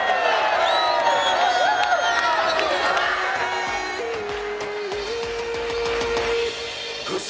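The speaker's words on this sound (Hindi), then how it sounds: "तशरीफ लाती हैं आपकी पुरजोर तालियों में" A large crowd at a political rally (jalsa) in Multan cheers and whoops while applause rises under a voice over loudspeakers, fading down somewhat midway and then swelling again.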